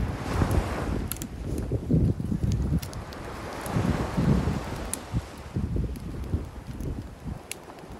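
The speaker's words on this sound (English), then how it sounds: "The wind is blowing and the small twigs below are catching fire." Wind gusts buffet the microphone beside a small outdoor campfire of burning twigs on an island shore, a fluctuating low roar with faint crackles and rustling close by.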